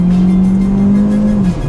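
A compact car accelerates on a test drive, its engine holding a loud, steady drone heard close up from the cabin for under two seconds.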